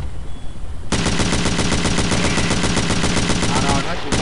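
Sustained automatic gunfire from a Battlefield 2 match, loud and rapid with a steady rattling rhythm that starts abruptly after a second of quieter ambience and keeps firing almost continuously to the end.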